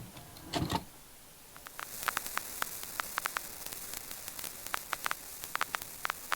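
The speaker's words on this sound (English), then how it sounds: "Sounds like white noise for some reason." Static played from a record in the video game Go Home Annie: a continuous hiss and hum, broken by a burst of louder noise near the start, then scattered sharp crackles and pops ticking irregularly throughout.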